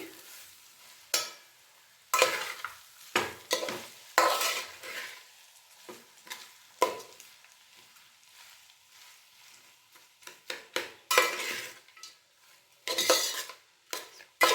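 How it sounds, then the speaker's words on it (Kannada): Cooked rice and onions are stirred together in a pan with a metal spoon: repeated scraping and clinking strokes in irregular bursts over a low sizzle, close and clear, with no talking. "ಈಗ ಮಿಕ್ಸ್ ಮಾಡಿಬಿಡೋಣ ಅನ್ನ ಹಾಗೆ ಈರುಳ್ಳಿ ಎಲ್ಲ ಸೇರೋ ರೀತಿ ಚೆಂದ ಮಿಕ್ಸ್ ಮಾಡ್ಕೊಂಬಿಡೋಣ"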